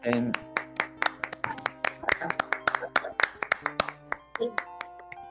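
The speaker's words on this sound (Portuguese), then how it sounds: "Uma salva de palmas aí pra esse curta aqui, ó." Audience applause for a short film at a podcast event, a steady run of sharp claps from a group with an uneven rhythm, fairly close and loud throughout.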